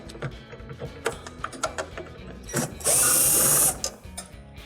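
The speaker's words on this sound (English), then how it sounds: "So now we're going to go ahead and remove the 2 screws." A screwdriver backs screws out of a Whirlpool refrigerator shelf, giving a run of small ratcheting clicks and taps followed by a sustained high whirr of a powered driver, close and clear.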